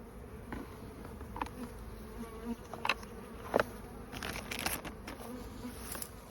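Honeybees buzz steadily at close range at the hive, with a dense low hum and scattered louder passes as individual bees fly near.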